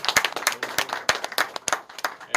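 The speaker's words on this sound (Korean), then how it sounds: "두 분께 큰 박수 좀 부탁드리겠습니다" An audience at a port logistics panel discussion applauds two presenters, with sharp, close individual claps at an irregular rhythm rather than a dense roar.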